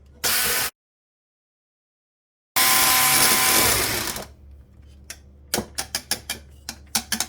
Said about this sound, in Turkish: Köpük köpük oluncaya kadar çırpalım.